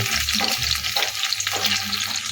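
Pointed gourd frying in oil, with a close, constant crackling sizzle and a low rumble beneath it.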